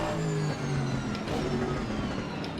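A race car engine in the racing game Assetto Corsa Competizione revs and pulls hard, a deep bassy, steady roar with shifting pitch running loud the whole time, with no talk over it.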